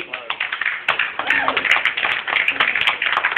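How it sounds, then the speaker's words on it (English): Scattered audience clapping at a book release event, a patchy, moderate patter of hands with people talking over it. "Don't clap too hard."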